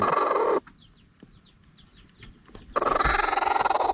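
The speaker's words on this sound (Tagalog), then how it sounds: "Yan po ang bagong manok uli natin." Native chickens cluck and chirp softly in a short, quieter pause between louder bursts of farmyard noise, with several brief calls close by.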